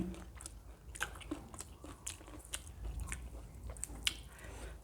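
Close, steady crunching and chewing of Thai green papaya salad (tam mak hung), with repeated wet bites and crisp crunches through several seconds and no talking.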